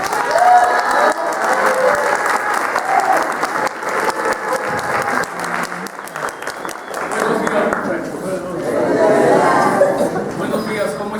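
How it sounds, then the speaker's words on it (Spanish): Audience applause welcoming a priest at a liturgical music congress, loud clapping mixed with crowd chatter and some chuckling, swelling again near the end. "Recibámoslo con un fuerte aplauso."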